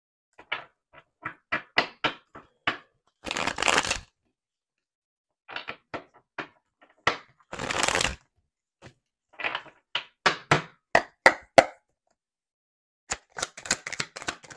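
A tarot card deck riffled and shuffled by hand during a love reading, giving repeated crisp clusters of rapid papery flicks with short pauses and two longer, denser riffle bursts, close and fairly quiet, with no talking.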